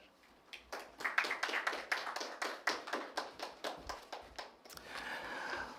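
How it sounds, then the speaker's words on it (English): Scattered applause from a small audience at a policy presentation, a series of distinct, fairly evenly spaced claps that sound close and thin rather than a dense crowd roar, with no speech over them. "I think we should give ourselves another round of applause"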